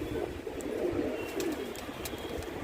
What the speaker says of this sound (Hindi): तो ये देखो, ये है कबूतर, ब्लैक है इसमें कबूतर है